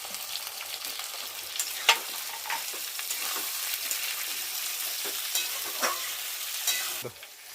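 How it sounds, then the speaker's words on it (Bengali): Potatoes and onions fry in a pan with a steady sizzle, broken by intermittent scraping clicks as a spatula stirs them, close and moderately loud with no voices. "এবার আলুর সাথে পেঁয়াজটা ভাজতে ভাজতেও লাল হয়ে যাবে।"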